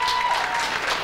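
Audience applause at a comedy night show: a continuous wash of clapping from a crowd, loud and sustained through the short moment, with voices mixed in.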